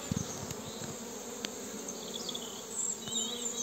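Honey bees hum and buzz steadily around their hives on a warm March day, a soft continuous drone with a few louder passes near the end, with no talking.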